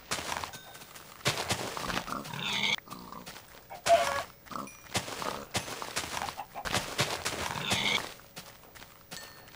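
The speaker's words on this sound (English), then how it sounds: "Killing some piggy pigs." Minecraft pig grunts and squeals amid game sound effects as the pigs are attacked, choppy bursts of noise and footsteps recurring throughout, loud and close.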